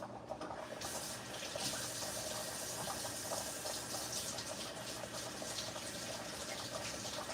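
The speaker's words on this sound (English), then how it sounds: "I'm going to wash my hands" A kitchen tap runs steadily for hands being washed before cooking pork chops, a continuous broadband splashing rush that stays even from start to finish with no talk over it.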